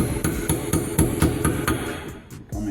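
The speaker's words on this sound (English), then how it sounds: "take this hammer, this chisel, get this seal off" A hammer drives a chisel to knock a seal off a unit, giving sharp metallic strikes at a steady rhythm of about four per second, close and clear, with a short pause near the end before hitting resumes.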